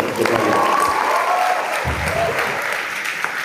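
Audience of school students applauding in a hall, a dense burst of clapping that holds steady and close for a few seconds, with faint voices mixed in.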